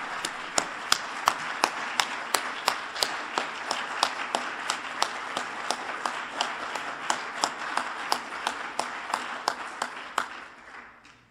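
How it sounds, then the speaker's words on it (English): Audience applause closing a university lecture at Emory, a steady wash of many hands with distinct sharp claps standing out in an even rhythm, sustained for about ten seconds before tapering off at the end. "Would you please join me in a final round of applause thanking Professor Wolterstorff?"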